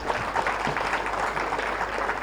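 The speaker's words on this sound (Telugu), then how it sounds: "ఒక్కసారి గట్టిగా చప్పట్లు." Audience clapping at a youth meditation gathering, a continuous even patter of many hands, moderately distant and fairly soft, with no talking over it.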